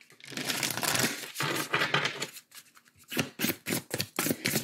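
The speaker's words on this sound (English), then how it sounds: "So I'll just pull your final oracle card here with a quick shuffle." Oracle cards being given a quick shuffle, a run of dense papery riffling and crinkling bursts that come in rapid, closely spaced pulses, fairly loud and close with no talk over them.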